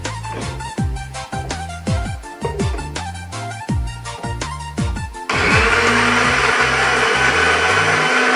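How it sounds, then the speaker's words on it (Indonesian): A kitchen blender purees cooked moringa leaves, starting with loud chopping pulses that then give way to a steady, louder continuous whir, close up and with no talk. "kita haluskan kelornya dengan cara memasukkannya ke dalam blender"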